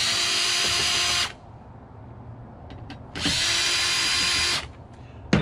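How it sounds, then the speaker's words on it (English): A power tool trims the gold fingers off a circuit board salvaged from an LED flat screen, in two loud, close, steady cutting bursts of about a second each with a quieter pause between them. "Trim off the gold fingers"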